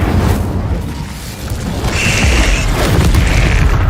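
Booming fiery spell blasts, Confringo and Incendio, in Hogwarts Legacy, a loud continuous rumble with a bright hissing burst midway, no voices.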